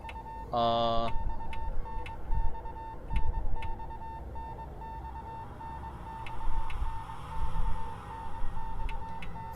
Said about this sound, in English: There's an incessant beeping, like from a telegraph.